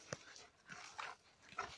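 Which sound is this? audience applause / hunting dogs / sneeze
hunting dogs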